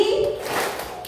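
Children clap hands together in a classroom clapping game, a short burst of claps close by with voices chanting along.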